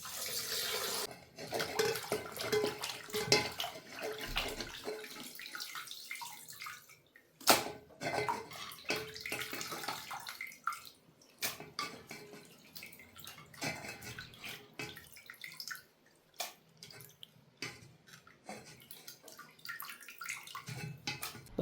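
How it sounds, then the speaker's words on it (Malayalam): Chopped liver being washed in water in a kitchen: continuous splashing and pouring with sloshing bursts throughout, close and moderately loud, with no voices. "ഇനി നമുക്കിതൊന്ന് നന്നായിട്ട് കഴുകി വാരിയെടുക്കാം."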